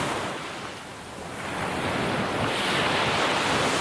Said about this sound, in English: the most dangerous place in the water is where crashing wave meets rock